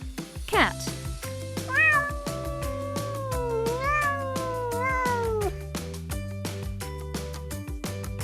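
A cat meows several times in drawn-out, gliding calls over bouncy background music.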